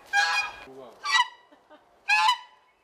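A domestic goose honks three times in a village yard, loud, close and evenly spaced about a second apart, with brief quiet gaps between the calls.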